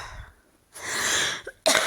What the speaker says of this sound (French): Je vous laisse les moments où je tousse